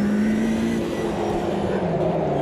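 A race car engine in the AMS2 racing video game held at high revs, a loud, steady, continuous drone with slight pitch shifts throughout.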